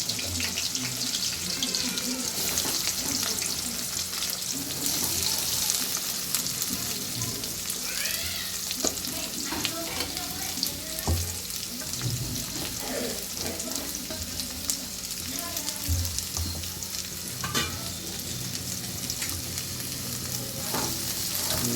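Onions frying in hot oil with mustard seeds and cumin make a continuous close sizzle, broken by scattered crackles and pops and the occasional scrape of stirring throughout.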